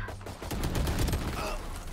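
A muffled, continuous burst of gunfire in the shooter game Valorant, sounding as a dense rattling volley at moderate volume over two seconds.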